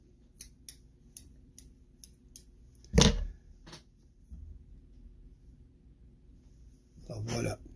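Excess feather is trimmed with scissors in a run of about eight sharp, evenly spaced snips close by, followed by a louder handling thud and a few faint clicks in a quiet room.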